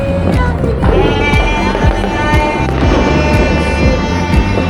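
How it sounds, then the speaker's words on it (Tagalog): New Year firecrackers exploding in a rapid, continuous barrage of sharp cracks and pops, loud and close, with a steady rumble of blasts underneath. "Ayan yung paputok na yan!"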